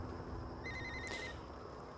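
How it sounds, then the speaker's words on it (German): Mobile phone ringing inside the video game Alone in the Dark, a short electronic ring tone repeating a few times over a steady low background hum, moderately faint, with no talking. "Hey, Theos Handy"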